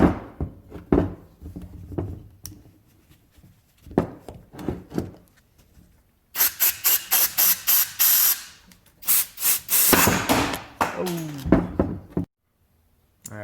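A brake caliper piston is forced out of a corroded Chevrolet Malibu rear caliper with bursts of compressed air: several sharp, loud hissing blasts and knocks after a quieter stretch of small clanks, ending in silence.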